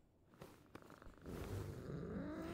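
A cat purrs in the video game Genshin Impact, a soft, steady close rumble that starts faintly and swells fuller and louder after a second, continuing alone.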